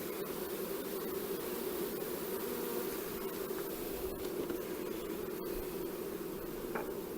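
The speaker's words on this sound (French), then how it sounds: "Ça fout des abeilles partout, hein, ce genre de manœuvre." Honeybees buzz densely around an opened hive while feeders are put back and queen cells are introduced, a steady, continuous hum that stays loud and even throughout.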